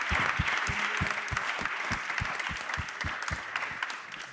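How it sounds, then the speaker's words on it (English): An audience at a Serpentine Pavilion talk claps loudly, with sharp individual hand claps standing out over a thick bed of applause that carries on steadily throughout. "A big round of applause!"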